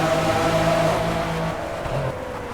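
A McLaren F1 engine drones steadily in the Project CARS racing game, a continuous mid-pitched hum that eases slightly toward the end, with no talking.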